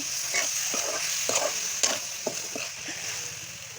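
Pork cooking with potatoes and onions in a hot pan, with steady frying sizzle broken by irregular scraping stirs of a utensil, close and fairly loud.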